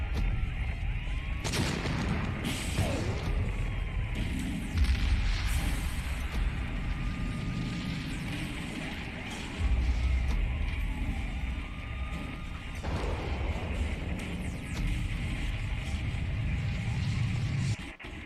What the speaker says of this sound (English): you can hear sirens, a lot of explosions. You can hear what sounds like a shotgun, something else that sounded like maybe another sort of gun here